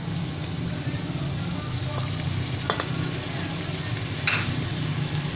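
Mutton pieces frying in a pan while making namkeen gosht in a home kitchen, a steady moderate sizzle with a few faint clinks of stirring throughout.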